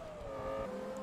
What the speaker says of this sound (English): This car's loud as well.